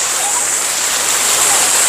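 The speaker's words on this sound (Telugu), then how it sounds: "వాటర్ ఫాల్స్ మాత్రం మామూలుగా లేదు చిన్నదైనా కూడా చాలా బాగుంది" A small waterfall in a forest rushes in a steady, close, even broadband roar, with no voices over it.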